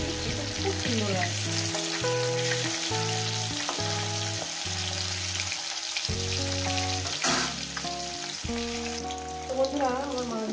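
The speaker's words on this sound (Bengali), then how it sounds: "আমার মাছগুলো ভাজা হয়ে গেছে" Laylon tika fish frying in a pan gives a steady, close sizzle that runs through the whole stretch, partly buried under loud background music with a prominent melody.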